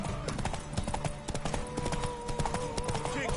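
Horse hooves clip-clop steadily in The Witcher 3 video game, a brisk rhythmic trot running throughout, with game voices talking over it.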